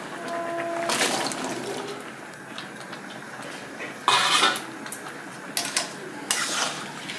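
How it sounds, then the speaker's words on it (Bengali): Chopped potatoes going into a pot of half-cooked dal (lentils), three soft splashing, clattering bursts over a steady low simmering hiss, close and fairly quiet. "আমি এখন আলুটা দিয়ে দেবো"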